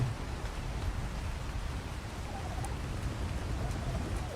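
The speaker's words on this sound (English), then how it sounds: "It's raining." Steady rain falls in the survival game ARK, a dense, even hiss of drops that holds at a moderate level for the whole stretch, with no voices over it.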